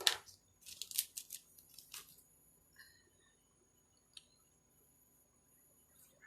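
Scissors snip through wreath bow ribbon tails in a few quick, faint cuts near the start, followed by quiet rustling and a single light click.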